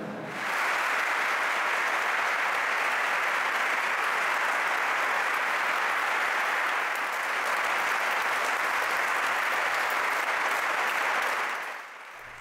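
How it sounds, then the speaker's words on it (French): A church congregation in Lyon gives Cardinal Barbarin long, sustained applause at the end of mass, steady and dense for about eleven seconds before fading out. "Les personnes présentes, toutes invitées personnellement en raison de la crise sanitaire, l'ont longuement applaudi à la fin de la célébration"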